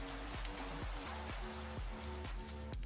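Steady rain weather hissing in the Minecraft video game, a dense even wash of falling rain with soft regular thumps underneath, continuous and close throughout.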